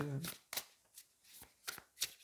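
A Wild Unknown tarot deck is shuffled by hand in a quiet room. About six crisp, papery riffles come at uneven intervals, and a voice is briefly heard at the very start.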